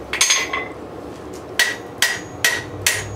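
Hammer blows drive a drift through a hole in a piece of hot, forged rebar, shaping it into a Dutch oven lid lifter. A quick cluster of ringing metallic strikes is followed by four evenly spaced, sharp, close hits.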